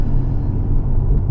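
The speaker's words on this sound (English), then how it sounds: "You see what I mean about the exhaust opening up?" Stage 2 Collins Performance tuned Ford Focus ST exhaust under full throttle, a loud, steady low rumbling growl filling the clip without a break, close up and with no voices over it.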